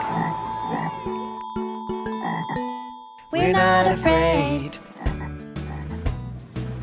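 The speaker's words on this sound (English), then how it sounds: "It's a frog." Frog croaks sound amid a bouncy children's song with singing voices and instruments at a kindergarten morning assembly, the croaks standing out clearly over the music.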